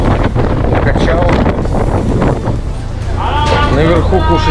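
Strong wind buffets the microphone with a steady roar on a boat at sea near Ras Mohammed, Egypt, while voices talk underneath and water sloshes nearby.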